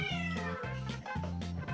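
A cat meows close by, repeating a loud, insistent call several times in quick succession with no other sounds around it.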